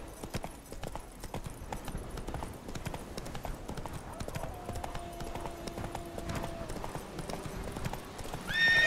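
Roach, the horse in The Witcher 3, gallops in quick, rhythmic hoofbeats that continue steadily throughout, with a brief tonal call near the end.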